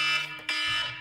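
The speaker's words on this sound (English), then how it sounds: "My alarm clock." An alarm clock rings with a loud, continuous electronic buzzing tone, brief and close, with no talking.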